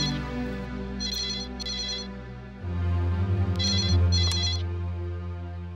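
A telephone rings in two clear double bursts of bright, trilling bell tones, loud and close, over a steady low musical background.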